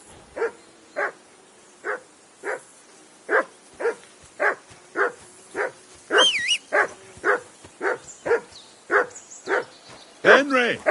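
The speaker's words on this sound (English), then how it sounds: "Call off that mutt of yours!" A dog barks repeatedly in the video game Kingdom Come: Deliverance, with about twenty evenly spaced, fairly close woofs in a row and brief spoken voices near the middle and end.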